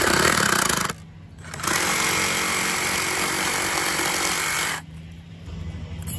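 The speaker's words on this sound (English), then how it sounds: "we set the new pipe next to it and cut it the exact same length" Reciprocating saw cutting through 2-inch PVC pipe, a loud rasping buzz that runs, pauses briefly, resumes and then drops to a lower idle near the end.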